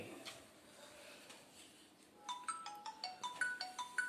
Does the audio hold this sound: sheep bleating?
no